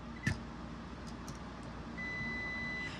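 A steady multimeter continuity beep comes on partway through and holds while testing a light switch or outlet ground, thin and quiet against faint background hum.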